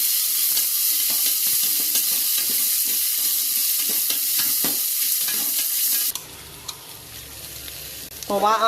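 Onions sautéed in a pan for cabbage poriyal give a loud, continuous sizzle and hiss with frequent stirring scrapes, then the frying drops abruptly to a quieter, sparser crackle near the end.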